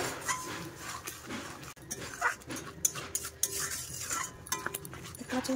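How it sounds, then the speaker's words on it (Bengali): Spinach is stirred in a pan with spices for palak paneer, giving soft irregular scrapes, light metallic clinks of the spoon against the pan and faint sizzling, close by. "শাক দেওয়া হয়ে গেছে, এবার নেড়ে নেব।"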